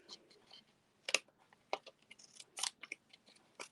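Scissors snip through paper while a card is made with die-cut pieces, giving several short, crisp close-up cuts in an irregular rhythm with quiet pauses between them.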